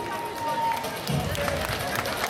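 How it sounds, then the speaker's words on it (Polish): A crowd applauds steadily for a seventh-place finisher at a dance competition awards ceremony, a dense, continuous patter of clapping filling the hall beneath a presenter speaking over a microphone. "Wielkie brawa dla Izabeli."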